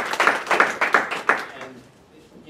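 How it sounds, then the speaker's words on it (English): A small audience at a town hall on police abuses in Maryland applauds Delegate David Moore. A few loud, close claps come in a short burst, then fade quickly into quiet. "if you can give him a round of applause"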